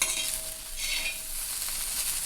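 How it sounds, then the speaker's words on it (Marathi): Okra frying in oil is stirred and turned over in a pan, a steady bright sizzle filling the short stretch with soft scraping moves, close and fairly loud, no voices. "तेलामध्ये छान अशी भेंडी मी भाजून घेतली आहे तर एक पाच मिनटं झाले ह्याला मी फक्त छान असं खालवर मिक्स करते"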